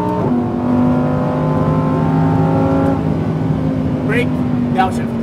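A hypercar pulls hard at full throttle, its engine note climbing in steady loud harmonics close by, then easing off as a brief voice cuts in near the end.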